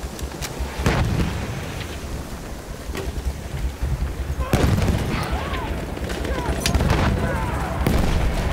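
A bomb is thrown and explodes in a war video game, with sharp blasts and gunfire cracks against wind-like rumble, while a voice talks over the battle.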